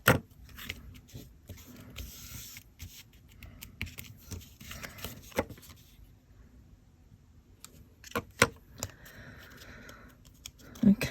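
Scissors trim a scrap of paper card in a few quiet, separate snips with pauses between them, close by and fairly soft, alongside light handling noises.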